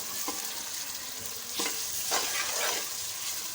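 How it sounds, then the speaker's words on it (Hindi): Prawns sizzle in hot oil with onion and garlic, a steady crackling hiss broken by a few louder scraping bursts as a spoon stirs the pan. "फिर इसको इसी तेल में फ्राई कर लेंगे प्याज और लहसुन के साथ"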